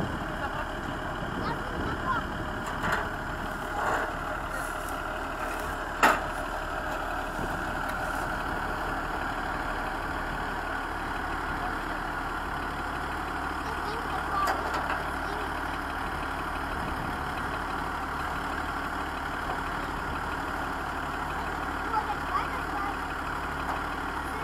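Farm machinery engine idling while threshing wheat, a steady low rumble with faint knocking that holds evenly for the whole stretch. A few sharp clanks stand out, and a voice is faintly present.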